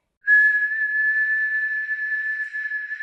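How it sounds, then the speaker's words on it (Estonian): A character in the animated film Pannkoogipidu whistles a single steady, clear, high note that starts abruptly and holds for nearly three seconds, loud and alone. "Keel vilistab korraks"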